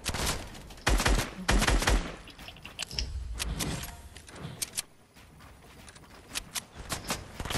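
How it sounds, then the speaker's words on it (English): Gunfire in a Fortnite match: rapid bursts of shots and sharp single cracks, loud at first, then sparser and fainter shots scattered over the rest, with no talk. "They're shooting at me"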